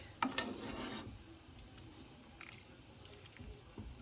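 Carrots, celery, onion, garlic and chicken wings for homemade chicken noodle soup cook in a pot, a brief loud sizzle and stir up front, then soft bubbling and small clinks, with no talk.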